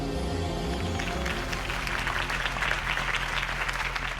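Steady applause from a crowd in the Telltale Batman video game, a dense wash of clapping with a low musical drone underneath throughout.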